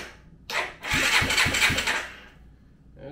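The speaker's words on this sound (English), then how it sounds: "Turns out you have to turn the engine on." A Kawasaki Bayou ATV engine, just rebuilt, cranks with a few rhythmic chugs, catches and runs briefly on its first start, then fades out; close and fairly loud, no talking.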